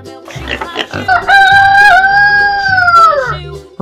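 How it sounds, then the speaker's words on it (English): A rooster gives one long, loud cock-a-doodle-doo crow that rises and holds before tailing off, heard up close over a steady rhythmic musical beat in a children's farm-animal lesson. "Rooster."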